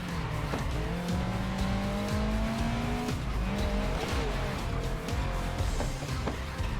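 Car tyres squealing through a handbrake slide in the Grid Legends racing game, a long rising screech held over a steady engine roar, loud and close, with no talk.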